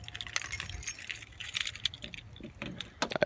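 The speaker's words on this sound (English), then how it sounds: "I have too many keys on this key ring right now." A crowded key ring jangles and clinks repeatedly, bright metallic rattles in irregular bursts, close up with no talking over them.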